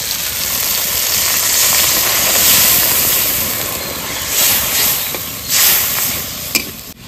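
Milk poured into a pan of fried spice mixture while cooking a Bengali hinche greens fritter dish, giving a steady loud steaming hiss and sizzle that swells and eases, ending with a brief clink.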